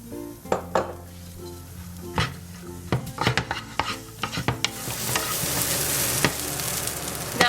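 Chopped onions sizzle in olive oil in a pan while a utensil stirs and scrapes, giving repeated close clinks and knocks over a steady frying hiss that grows louder toward the end.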